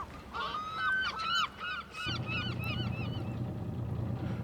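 A gull calls in a Shetland village with a run of loud, repeated, hoarse honking cries over a steady low rumble of background noise.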